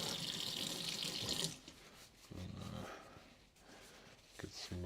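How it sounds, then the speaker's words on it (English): Tap water runs loudly over vegetables being rinsed in a kitchen sink for about a second and a half, then stops, followed by quieter handling sounds and a short splash near the end. "I guess I might as well give them a little rinse."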